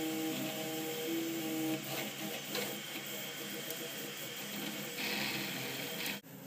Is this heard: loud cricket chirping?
no